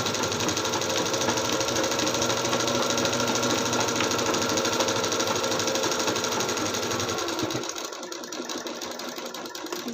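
A sewing machine runs steadily while stitching a blouse seam, a close continuous whirring hum that drops to a quieter, rougher mechanical idle near the end.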